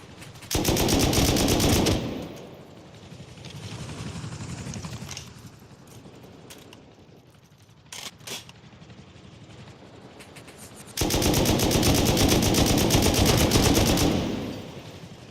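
Rust console game gunfire comes in two long, loud automatic bursts at the start and end, separated by a quieter stretch with a few scattered shots.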